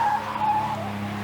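A Ford Zephyr rally car on a closed road during the 1988 Pirelli Classic Marathon, its engine giving a steady, tonal drone as it goes by in a short burst.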